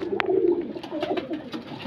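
A teddy patta pigeon cooing, a soft low throaty coo held briefly near the start and followed by quieter murmurs, with a sharp click and faint background noise, fairly close and without speech.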